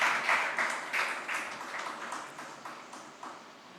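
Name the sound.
parents clapping at school felicitation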